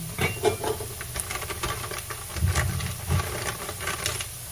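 Garlic browning in hot oil gives a steady hissing sizzle with faint spattering pops, close and fairly loud, with no talking.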